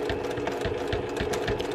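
Sewing machine back stitching through several thick layers of fabric, a rapid steady mechanical chatter with a regular rhythmic pulse, close and continuous throughout.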